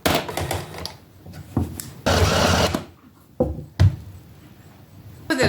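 A household sewing machine runs in short stop-start bursts, a loud close whirring chatter that cuts in and out several times with quiet gaps between runs.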